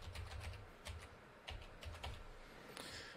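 A password is typed on a computer keyboard in quick, close, quiet clusters of key clicks with short pauses between bursts.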